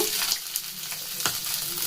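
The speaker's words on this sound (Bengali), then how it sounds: "অল্প একটু তেল দিয়ে যতটুকু প্রয়োজন সেই রকম দিয়ে এগুলোকে ভেজে নিতে হবে" Hard-boiled eggs fry in a little oil in a pan, giving a steady, close sizzle for two seconds with a couple of brief clinks from a utensil and no talking.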